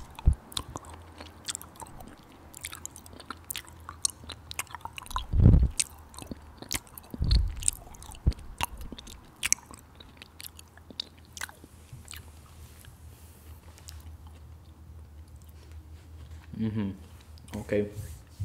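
Chocolates are bitten and chewed close to the microphone in an ASMR setting, with a couple of sharp crunchy bites followed by soft, wet chewing, while a person talks at intervals.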